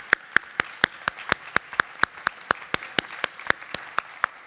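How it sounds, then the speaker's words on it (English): Regular, evenly spaced claps, about four per second, crisp and close, repeating steadily like a single person clapping along. "give yourselves a round of applause"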